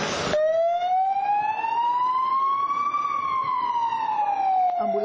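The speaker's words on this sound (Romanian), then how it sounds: "Ambulanțele fac sute de drumuri în tot județul pentru a aduce alți și alți bolnavi" An ambulance siren wails in a single long, slowly rising and falling tone, loud and close, with no voices over it.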